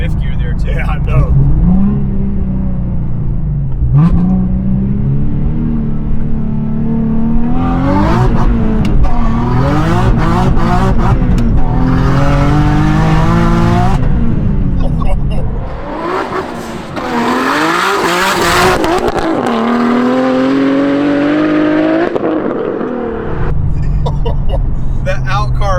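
A twin-turbo Nissan 370Z on a stock engine making over 700 wheel horsepower pulls hard in fifth gear, its engine note climbing steadily and loudly from inside the cabin, briefly dipping before rising again, with occupants talking over it.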